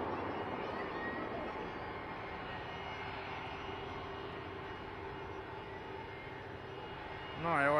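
An Atlas jet returning from Anchorage passes at Van Nuys Airport, California, its engines a steady, continuous roar that rises sharply right at the end.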